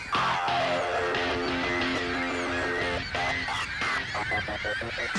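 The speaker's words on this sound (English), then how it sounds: "The majestic sound of the birds." A loud flock of geese honking continuously, many overlapping calls close by, with harmonic honks stacking up throughout.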